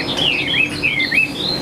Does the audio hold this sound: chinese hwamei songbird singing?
yes